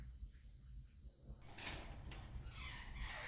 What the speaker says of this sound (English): There goes the garage door